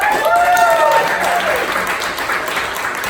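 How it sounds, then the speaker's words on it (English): Improv show audience applauding to vote for a performer, a full round of clapping that holds steady then tapers slightly, with a voice speaking over it near the start. "if I could get anyone who votes for Josh, please give a round of applause."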